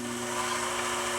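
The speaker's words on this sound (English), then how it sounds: "maybe I'll run this machine before I thread the take-up lever, just so we can hear the sound level" A Singer 1222SE 1200 series sewing machine runs steadily without thread in the take-up lever, giving a continuous even motor whir with a mechanical hum, close and alone.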